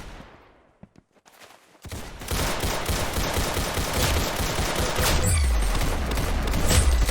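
Gunfire in a pistol-round shooting video game follows a near-quiet start with a few faint clicks, then gives way to a dense, loud stretch of shots and battle noise that builds toward the end, with no talk.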